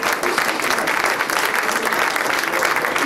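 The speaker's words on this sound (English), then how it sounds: "Let's give him a nice round of applause." Sustained audience applause at a labor awards reception, a dense, even clapping from a sizable indoor crowd, loud and close throughout.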